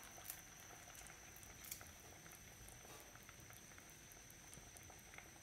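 Fish curry with curry leaves simmering in a pot as the gravy thickens, a faint, steady bubbling patter with scattered small pops.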